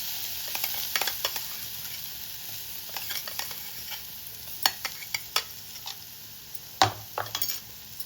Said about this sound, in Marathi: आपण जो मसाला बनवला होता मिरची आणि धने सर्व साहित्य हे टाकून घेऊया